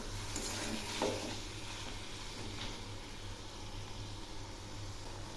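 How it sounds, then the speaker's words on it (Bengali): Spice paste with green chillies is stir-fried in a pan for an okra and potato sabzi, a soft continuous sizzle with light stirring scrapes and a low background hum. "আর একটু কষিয়ে নেব।"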